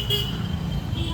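Vehicle horns toot in street traffic outside a mall, a short honk over a rumbling road background.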